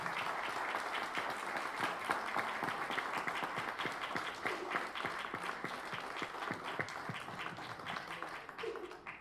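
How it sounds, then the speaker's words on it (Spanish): Audience at a conference on reducing the carbon footprint in concrete manufacturing claps warmly to welcome engineer Genaro Salinas, a sustained crowd of many hands at steady volume for several seconds, with some individual claps standing out. "Venga, buen aplauso."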